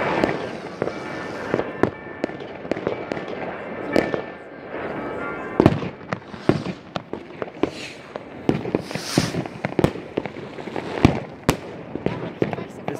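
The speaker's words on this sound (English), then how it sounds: "Everybody has fireworks." New Year's Eve fireworks crack and boom all across the Zermatt valley in Switzerland, with sharp bangs from varying distances, some near and loud, others far, over a hissing, crackling background, and people talking faintly.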